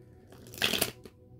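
A brief, quiet riffle of a stiff tarot card deck being shuffled, a short papery flutter close by in an otherwise hushed room.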